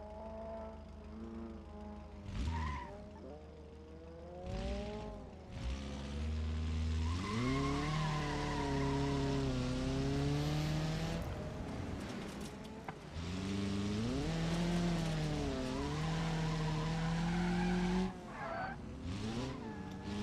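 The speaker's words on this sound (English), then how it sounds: "Oh man, they spun out." A rally car in the video game Holiday Rallycross spins out, its engine whining and rising and falling in pitch while tires squeal and skid almost continuously, loud and close.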